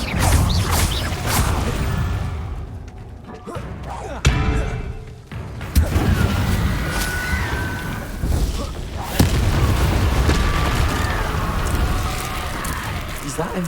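In the video game Hogwarts Legacy, a Confringo fire spell explodes as a few heavy booms and whooshing blasts. The booms come over game ambience while someone talks.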